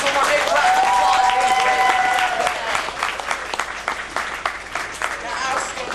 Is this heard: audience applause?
yes